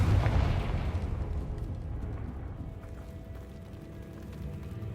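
A Confringo fire-blasting spell explodes in the Hogwarts Legacy video game with a deep, booming burst. The rumbling tail fades slowly over several seconds.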